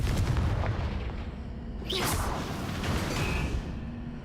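A Confringo explosion spell fires in the Hogwarts Legacy video game: a sharp whooshing burst with a booming blast, standing out over a dense, continuous game soundscape.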